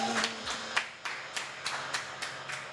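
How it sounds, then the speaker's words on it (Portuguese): A church congregation at an evening worship service claps in a steady rhythm, with crisp, evenly spaced claps at a moderate volume and little else beneath them. "Aplauda o nome Amém"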